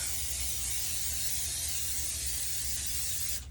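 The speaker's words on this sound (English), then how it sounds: "I am going to use some olive oil spray, and I'm gonna go over the sink to do that." Olive oil cooking spray hisses in one steady, continuous burst held over a kitchen sink, bright and close, cutting off sharply at the end.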